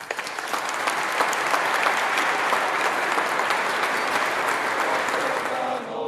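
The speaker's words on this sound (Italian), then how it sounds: "vi chiedo che voi, anche per voi, applaudite voi e anche tutto il popolo di Burcei" An audience at a community gathering in Burcei applauds steadily and densely for several seconds, with the clapping staying even and then tapering slightly at the end.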